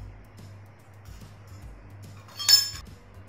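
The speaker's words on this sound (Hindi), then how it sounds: "अब इसमें हम चकली बनाने वाला प्लेट डालेंगे।" A metal shaping plate is dropped into a greased chakli maker, giving one bright metallic clink after a stretch of quiet handling and low hum.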